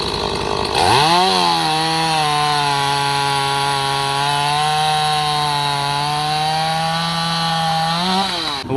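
A chainsaw, brought along on an off-road ATV trip to a pond, starts up and buzzes loudly at a steady high pitch while cutting through wood, then winds down at the end.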